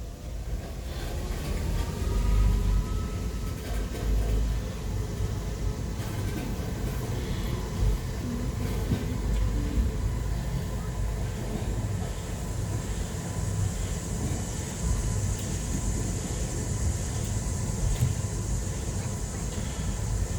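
Steady rumble and rolling hum of the Bronx Zoo's Wild Asia monorail in motion, continuous and moderately loud, with faint rattles and a rising whine near the end.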